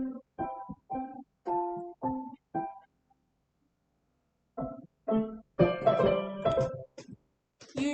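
A musical trill played at a louder dynamic: a run of short, pitched notes with gaps between them, ending in a fuller, denser burst of rapid notes. No voices.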